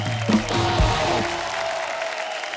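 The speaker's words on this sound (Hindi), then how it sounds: "जोरदार तालियां गायत्री और पुष्कर के लिए।" A studio audience at a televised comedy talk show breaks into applause: dense, steady clapping that fills the whole stretch, with a brief voice and musical tones near the start.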